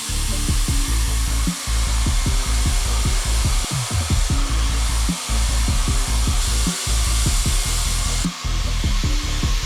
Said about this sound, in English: For today's method, we're gonna go with the diffuser.